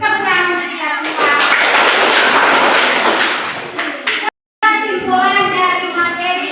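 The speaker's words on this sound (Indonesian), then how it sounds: "Tepuk tangan untuk kita semua." Classroom applause rises after someone speaks and continues as a sustained burst of many hands clapping before a brief dropout, and then speech resumes over it.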